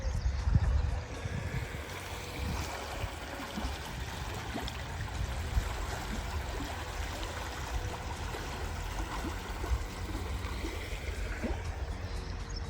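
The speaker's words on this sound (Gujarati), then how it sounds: "આ કેનાલમાં બકનળી કરીને બકનળી દ્વારા અહીંથી બકનળી કરીને કુંડીમાં પાણી આવે" Canal water running through a siphon pipe into a small farm tank, a steady broadband rush and trickle that holds at an even level throughout, with no talking.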